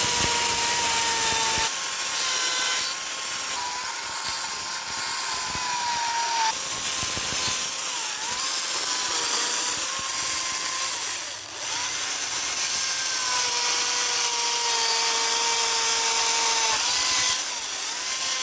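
A battery chainsaw with a worn battery, 43-thousandths chain and short carving bar cuts into wood continuously, loud and close, its motor pitch rising and dipping under load, with no talking.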